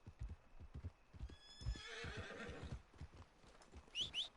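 A horse in Red Dead Redemption 2 gives a clear whinny over a steady clip-clop of hooves, the rhythmic hoofbeats close and continuous throughout, with no talking.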